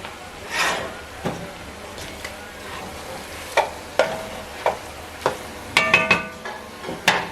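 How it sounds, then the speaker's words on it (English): Seafood gumbo ingredients cooking in a pot: a low sizzle runs throughout while a spoon stirs, and sharp metallic scrapes and knocks against the pot come in irregular bursts, growing more frequent toward the end. "But you want to stir all of those ingredients in there."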